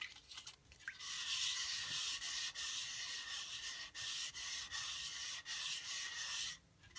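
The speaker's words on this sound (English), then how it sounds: "So maybe a couple more sanding." Steady, gritty sanding on the hard edge of a resin bangle, continuous back-and-forth rubbing with brief pauses, close to the microphone and without voices.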